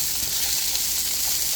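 Sliced onion and three cloves of garlic sizzling steadily in a hot pan, a close, constant frying hiss with faint stirring movements.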